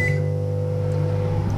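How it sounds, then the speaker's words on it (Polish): Microwave oven heating sausage in a home kitchen, a steady low electric hum with a faint high whine running continuously and evenly, close by, with no talking. "tylko kiełbasa do mikrofalówki"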